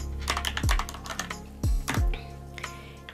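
Quick bursts of keystrokes clatter on a computer keyboard as a search is typed in a crafting setup for tumbler stickers, with a few heavier key thumps mixed among the lighter taps.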